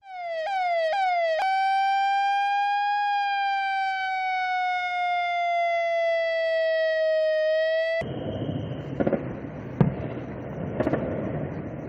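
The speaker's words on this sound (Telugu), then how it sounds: "ఆ ప్రాంతంలో భారీగా సైరన్ శబ్దాలు వినిపించాయి." Sirens wail during a blackout amid a Pakistani drone attack, a loud, steady rising and falling tone sustained for about eight seconds before cutting to rough outdoor noise with a few sharp knocks.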